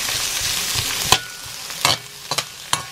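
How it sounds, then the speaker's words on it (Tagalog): Oil sizzles steadily in a pan while a utensil scrapes and clinks a few times as garlic and onion are sautéed, close up. "So ginigisa ko na yung bawang sibuyas."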